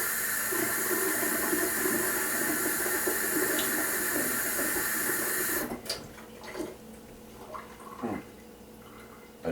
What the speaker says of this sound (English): I'm going to turn the water on, and then with the convexity of the spoon, I will just touch the stream